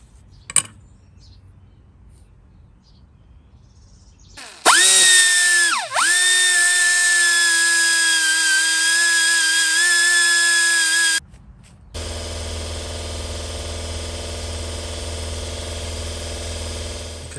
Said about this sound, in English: Okay guys, I got the angle grind with the polishing on it.